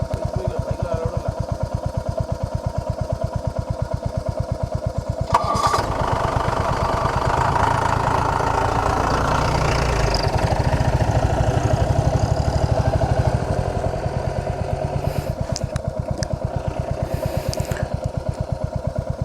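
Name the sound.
motorcycle engine idling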